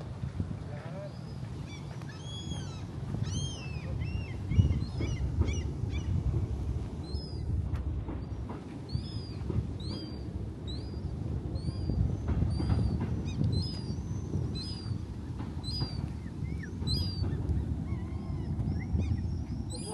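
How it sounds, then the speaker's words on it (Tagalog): Geese honking in scattered, fairly faint calls over a noisy outdoor background near water in Savonlinna, with people talking throughout. "Palisin ang ibon."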